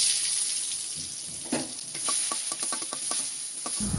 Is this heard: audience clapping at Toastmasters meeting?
no